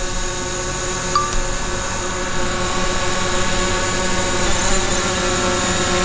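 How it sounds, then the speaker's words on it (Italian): A DJI drone takes off and flies with a steady, high-pitched whirring buzz of propellers that holds close and fairly loud throughout, with no talking. "Qui mi dice che il drone è troppo basso, adesso è giusto. E ora lo faccio andare."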